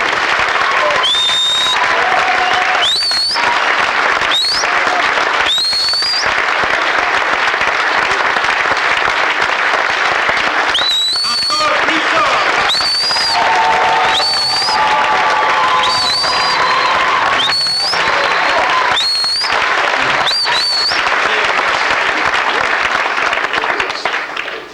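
A church congregation claps loudly and continuously to acclaim God, dense applause filling the room while repeated bright shouts and whoops rise over it at intervals.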